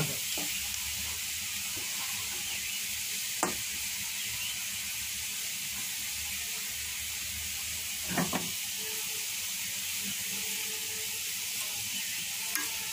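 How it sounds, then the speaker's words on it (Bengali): Onions sizzle steadily in a pan while being fried for a mixed vegetable curry, a constant bright hiss with a few sharp scraping stir clicks, heard alone without talk. "ওই জন্য পেঁয়াজটা একটু ভালো করে ভেজে নেবেন"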